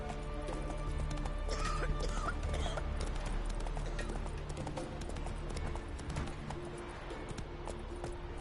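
Roach the horse galloping in The Witcher 3, with rapid clip-clop hoofbeats over a dense layer of game ambience and music, and a brief whinny partway through.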